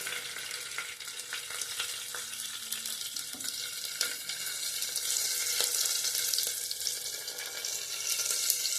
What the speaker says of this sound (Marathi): लसूण जरा तांबूस होईपर्यंत हे असं हलवून घ्यायचे